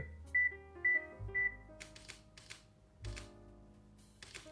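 Camera counting down a two-second self-timer while firing an HDR bracket: a few clear electronic beeps, then a series of quick shutter clicks at close range, with no talk.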